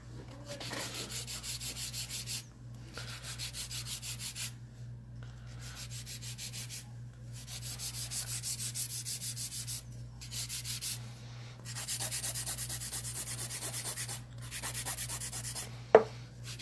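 An electric file bevels the free edge of a gel nail to 45 degrees, making a soft, rapid buzzing rasp in repeated strokes with short pauses over a steady low hum, close and fairly quiet, ending with a brief tap.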